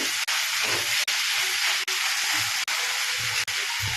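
Mixed vegetables sautéing in hot oil for vegetable kurma give a constant, loud, close hiss, broken by brief regular dips about once every second.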